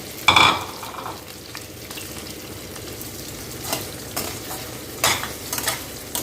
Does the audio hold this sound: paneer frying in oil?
yes